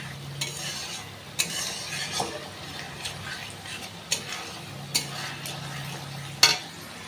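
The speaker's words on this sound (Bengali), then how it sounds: "টমেটোটা আর একটুখানি সেদ্ধ হবে, আর একটুখানি খুব ভালো করে আর একটু কষাতে হবে" Tomato masala cooking down in a pan for a fish curry, with a low steady sizzle and a series of distinct spatula scrapes and taps against the pan every second or so, close and moderately quiet.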